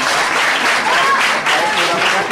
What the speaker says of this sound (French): On applaudit, non?